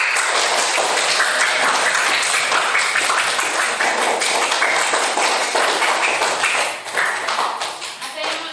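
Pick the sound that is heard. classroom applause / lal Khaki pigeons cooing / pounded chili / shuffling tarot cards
classroom applause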